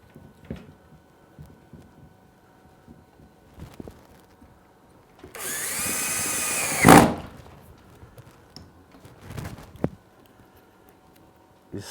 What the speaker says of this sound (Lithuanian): Dabar prisuksiu ant tos atžymėtos mano linijos vienu varžtuku pritraukėją.